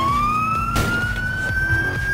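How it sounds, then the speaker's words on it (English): A police car siren in GTA 4 wails loudly close by, one long rising tone sweeping upward over an engine rumble, with a brief sharp burst of noise partway through. "I don't know how loud this siren is"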